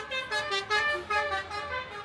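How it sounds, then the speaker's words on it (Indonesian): A telolet bus horn plays a tuneful melody of several rising and falling tooted notes in quick succession, loud and close, with road traffic faintly beneath. "Melodi klakson yang kian bervariasi jadi salah satu yang membuat bis-bis ini kembali digandrungi"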